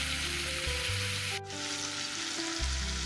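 Chopped onion and tomato sizzle in hot oil for a Kathiyawadi vagharelo rotlo, a steady bright frying hiss with a low hum beneath and a brief dip in the middle.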